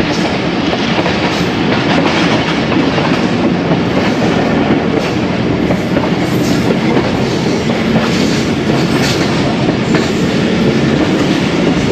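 Passenger train 122DN Ravi Express running on rails, a loud, continuous rumble with rhythmic clickety-clack of wheels over joints, heard from on board with no voices.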